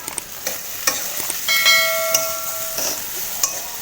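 A spiced mixture for a dried-fish curry sizzles in a hot pan while a metal spatula scrapes and clinks against it at irregular intervals, close and fairly loud, with no talking.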